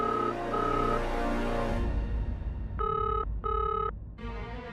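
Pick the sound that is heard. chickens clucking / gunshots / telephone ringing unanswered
telephone ringing unanswered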